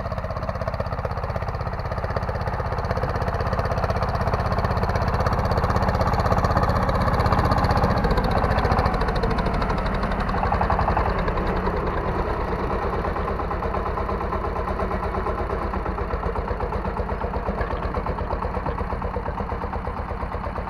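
A heavy tractor engine runs continuously and loudly while weeding between potato rows in a field, a steady rumbling drone with slight shifts in pitch and no voices.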